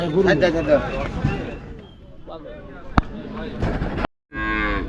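Cattle mooing at a busy cow market, several loud, drawn-out lows from nearby animals mixed with people talking and haggling in the background.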